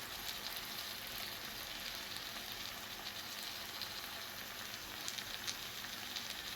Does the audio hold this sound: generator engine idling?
no